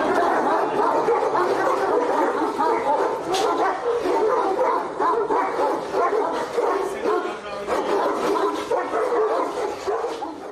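Kangal dogs bark and yip repeatedly, mixed with whimpers, while people talk nearby; the barking is loud and irregular throughout.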